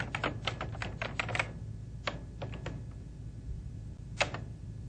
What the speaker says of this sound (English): I'll simply continue typing.